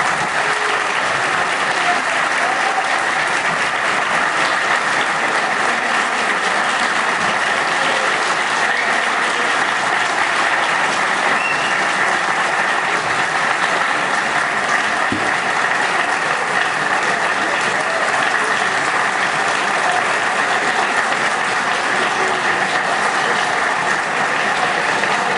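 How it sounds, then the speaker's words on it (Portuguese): A packed university auditorium at a USP inaugural lecture applauds emeritus professor Alaor Café Alves with dense, continuous clapping that holds steady and loud from start to end. "Por favor, uma salva de palmas ao professor elogiar."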